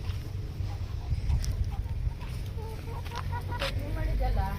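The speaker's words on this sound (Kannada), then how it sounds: "ನಮ್ಮ ಕೋಳಿಗಳೆಲ್ಲ ಮೇವು ತಿಂತಾವೆ." Farm chickens cluck and murmur while pecking at feed, several birds close by with soft intermittent calls over a low background, and a person talks briefly.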